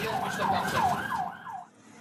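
An ambulance siren in Aleppo wails in repeated rising and falling sweeps, loud and close over street noise, fading out near the end.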